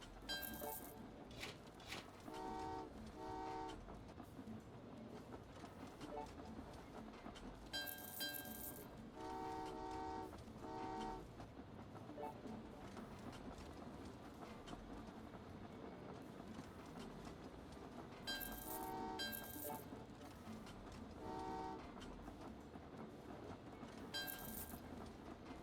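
Trains rumble and clack along the tracks in the Train Valley 2 puzzle game, with a few short horn toots repeating in brief groups over a steady low running noise, all fairly quiet.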